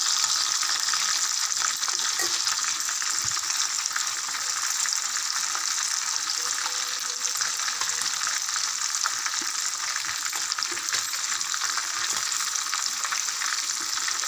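Tandoori chicken fries on a low flame with a steady, bright, continuous sizzle and occasional small crackles, close and even, with no talking.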